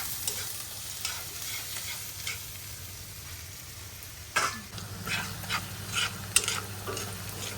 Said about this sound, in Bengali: এই যে আমার মশলা সুন্দর ভাজা ভাজা হয়ে গেছে